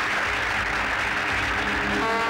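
Audience applause during a Hindi film scene about a spy, a dense, steady wash of many hands clapping close and loud throughout, with no talk over it.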